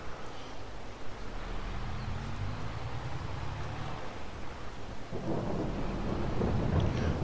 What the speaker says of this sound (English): I don't know how long the rain will be lasting.